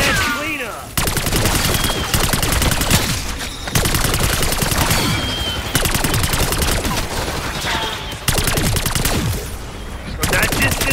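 Rapid automatic fire from a gun in Black Ops 6 Zombies, loud and continuous bursts broken by brief pauses, with chaotic game effects layered underneath.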